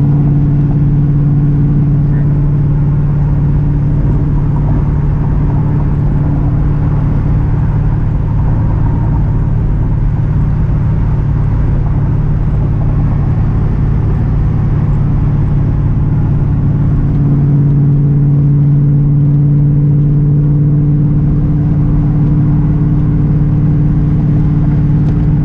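Chevrolet Camaro Z28 on a short drive to work, its engine holding a loud, steady low drone from inside the car with slight swells in pitch and no break throughout.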